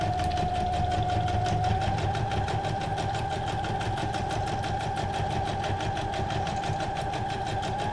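A sewing machine stitches through a paper card, giving a steady close mechanical hum with fast, even stitching pulses that run without a break and with no voices.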